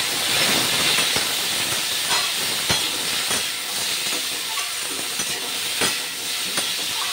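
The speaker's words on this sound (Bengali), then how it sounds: "দিয়ে দিলাম আমগুলো, এবারে ভালো করে নাড়াচাড়া করব" Raw mango pieces fry and sizzle in a pan for mustard and jaggery chutney, a steady loud hiss throughout with occasional scraping clicks of a spoon stirring, close up and without talk.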